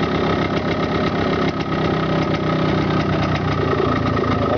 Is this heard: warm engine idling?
yes